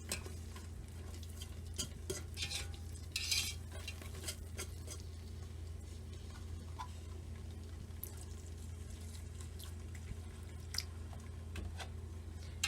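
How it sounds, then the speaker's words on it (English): Whole milk is whisked into a seafood bisque over a wood fire, giving a continuous soft scraping and sloshing with small clinks, steady and close under a low background hum. "I'm going to start adding my whole milk first and whisking that together."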